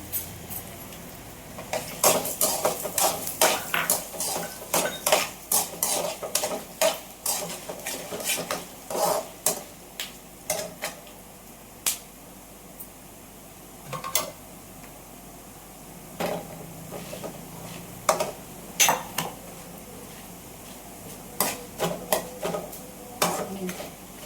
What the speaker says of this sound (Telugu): మిరపకాయలు బాగా ఏగాయి ధనియాలు ఎండుమిర్చి జీలకర్ర అన్నీ బాగా వేయించుకున్నాము